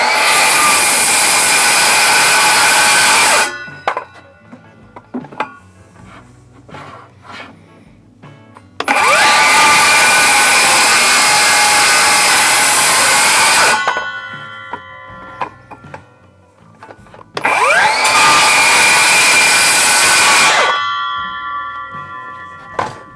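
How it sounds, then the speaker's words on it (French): A power saw screams through pallet wood in three loud cuts of several seconds each, separated by quieter pauses with light clinks and knocks. "Je fais toujours attention à la position de ma scie par rapport au clou et après j'attaque la découpe"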